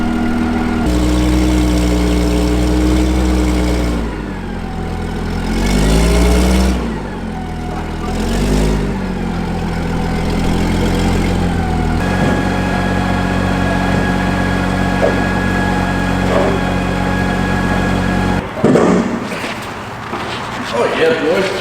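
A truck engine idles steadily with a low, even rumble throughout, running under close conversation between men in a work area.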